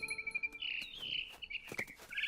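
Short, bright bird chirps and tweets sound in quick succession, close and clear, with a brief trilling sweep in the middle, from the video game What Remains of Edith Finch.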